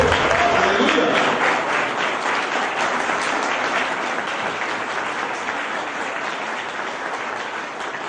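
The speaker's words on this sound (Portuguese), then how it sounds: "Você pode aplaudir Jesus pela vida do seu pastor" A church congregation applauds during a sermon, a full, dense roar of clapping that starts strong and gradually thins and fades over several seconds, with no speech.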